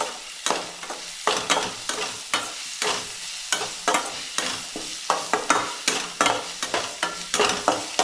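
Onions sautéing in a pan with ground masala paste, sizzling steadily while a spoon scrapes and stirs in regular strokes, close and clear, with no talk.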